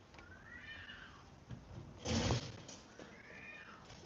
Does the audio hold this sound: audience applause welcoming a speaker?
no